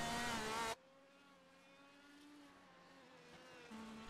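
An IndyCar race car in the iRacing sim at Detroit Belle Isle: a loud engine burst cuts off sharply, then a steady lower engine drone follows with a slight pitch rise as the car gets back on throttle.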